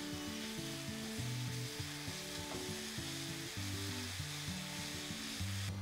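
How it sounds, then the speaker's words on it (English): Fresh torn spinach sautés in a pan, giving a steady close sizzle that holds throughout, with no speech. "I'm just going to saute."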